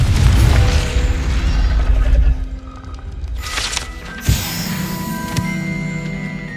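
A blasting spell in Hogwarts Legacy erupts in a deep, rumbling boom that fills the opening seconds, then gives way to a sharp pop and lighter magical crackles and chimes, with no talking.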